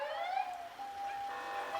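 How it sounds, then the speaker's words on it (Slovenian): A fire tanker truck (GVC 1) sounds its siren during a fire brigade parade celebrating a volunteer fire society's centenary, a steady wailing tone held loud and continuous throughout. "Sledi pa naš ponos, gasilska cisterna"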